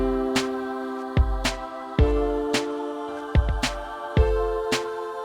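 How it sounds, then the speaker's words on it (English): A church choir sound programmed in FL Studio plays a chord progression, sustained vocal-like chords changing every second or so, each change marked by a sharp attack, close and without talk. "Then I create this type of choir that sounds like this."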